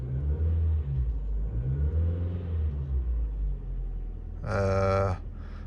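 A 2009 Ford Focus with a 1.6 petrol engine idles with a low, steady rumble just after starting, then gives one brief, louder rev near the end.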